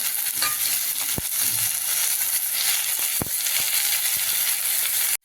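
Chopped colocasia stems hit a hot pan with mustard seeds and cumin, a continuous bright sizzle with a few sharp clicks and stirring scrapes, close and steady throughout.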